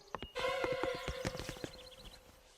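Cartoon horse hooves clip-clop in a steady, fairly close series of sharp knocks, with a brief whinny-like tone running alongside them.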